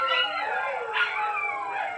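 Several dogs howl together in a long, wavering, overlapping chorus that swells and falls, fairly near, with no talk.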